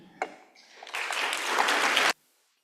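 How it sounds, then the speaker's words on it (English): An audience applauds at an award event. One sharp clap comes first, then the clapping builds into a full, close burst for about a second before it stops abruptly. "Please, one more big round of applause"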